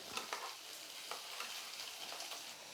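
Steady oily sizzling of spices tempering in hot oil for sambar, crackling continuously with light stirring scrapes, close and moderately loud.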